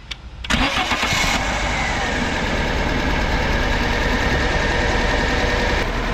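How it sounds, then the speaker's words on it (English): A Fiat Panda 4x4 engine cranks briefly and catches, then settles into a loud, steady idle close by with the air conditioning switched on. "let me start the engine with the air conditioning on"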